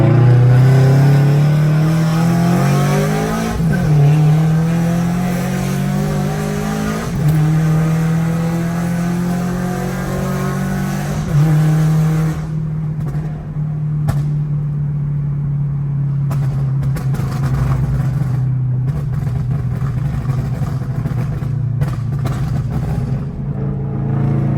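A tuned Subaru BRZ engine idles and revs steadily with a loud, close, droning tone, pitch rising and dipping in several blips before settling into a sustained high hum.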